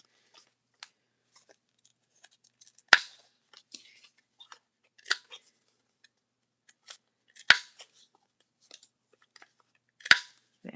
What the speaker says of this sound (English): I am going to round the corners on my tag.